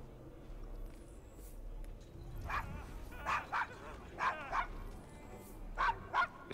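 A dog in Assassin's Creed Syndicate, set in Victorian London, lets out a few sharp barks and yips in clusters over a low background hum.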